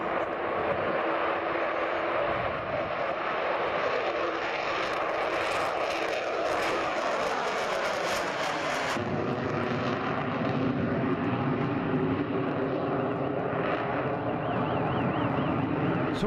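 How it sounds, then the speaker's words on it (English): A mix of different aircraft passing with engines running, a steady loud roar that shifts in pitch partway through as one craft gives way to another, continuous with no talk. "it's a quick mixture of lots of different aircraft"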